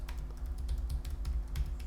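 Soft, quick typing on a Logitech K380 keyboard, a rapid run of light clicks and taps, close and fairly quiet with a low background hum.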